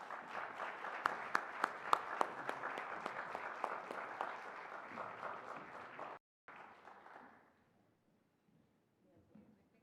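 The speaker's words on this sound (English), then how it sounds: "Please give them a round of applause." Audience at an MLK celebration award ceremony applauds recipients walking up, a full round of clapping with a few sharp nearby claps, fading out after about six seconds into near silence with faint rustle.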